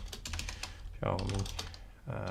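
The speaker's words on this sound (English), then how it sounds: "Okay, enough with the typing." Fingers tap quickly on a computer keyboard in bursts of clattering keystrokes, close and fairly quiet, broken by brief pauses where someone speaks.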